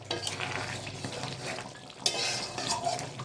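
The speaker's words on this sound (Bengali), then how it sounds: "মশলাটা দিয়ে তো দিলাম, ভালো করে নেড়ে চেড়ে কষাতে হবে খানিকক্ষণ" Biryani meat with spices frying and being stirred in a pan, a steady sizzle under repeated scraping and clinks of a spoon against the metal, with no one speaking.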